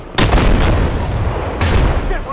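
Artillery shells boom in the tank game Armored Warfare: two loud heavy blasts about a second and a half apart, each trailing into a rumbling roar.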